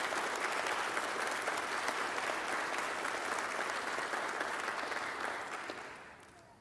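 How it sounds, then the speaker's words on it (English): Sustained audience applause at a fire department graduation ceremony, a dense wash of clapping that holds steady for several seconds before starting to fade. "Let's give a round of applause to the family who made this trip as well."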